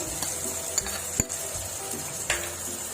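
Ginger garlic paste hits browned onions in a pan, giving a steady soft sizzle with a few light clinks and scrapes of a spoon against the pot, no voices.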